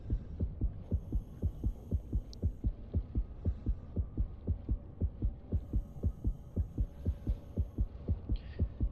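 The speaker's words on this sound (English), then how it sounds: "You get kind of used to hearing the heartbeat in your ears." Heartbeat in the underwater shark game Depth, a steady, close, muffled double thump repeating about twice per second over a low underwater hum, with faint distant effects above.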